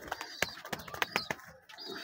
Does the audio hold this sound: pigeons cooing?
yes